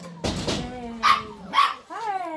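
Several young puppies yip and bark in short bursts, with a couple of louder high barks and a rising whimper, while a person talks nearby.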